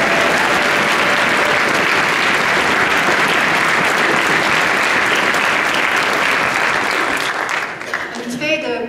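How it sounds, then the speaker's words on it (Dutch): An audience at the Model European Parliament Netherlands 2019 general assembly applauds the coordinators, dense sustained clapping from a large crowd that fades out near the end. "Dus graag een groot applaus."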